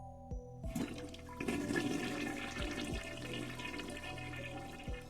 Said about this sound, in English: I jump at the sound of a running shower.